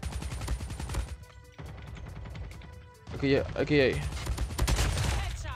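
KN-44 assault rifle bursts in COD Mobile, repeated rapid volleys broken by short pauses, loud and close, with someone talking over part of it.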